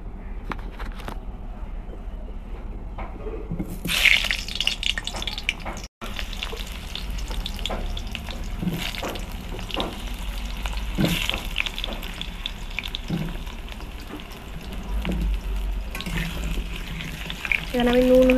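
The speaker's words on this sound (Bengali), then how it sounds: "তো এখানে আমি উচ্ছে আলুটা ভেজে নিচ্ছি" Potatoes frying in oil in a kadai, a steady broadband sizzle with occasional clinks and a brief break midway, with faint kitchen sounds underneath.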